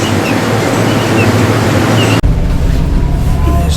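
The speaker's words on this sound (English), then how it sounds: "There's the ocean, the Mediterranean. No, it's not. It's the Straits of Oman." Ocean surf on the Straits of Oman washes in a steady, loud roar with heavy wind buffeting the microphone, broken by a brief dropout midway; no voices are heard.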